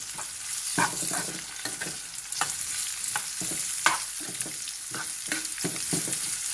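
Onion, garlic and panch phoron spices fry in oil with a close, continuous sizzle. Repeated scraping stirs break through it at a fairly regular pace, and no voices are heard.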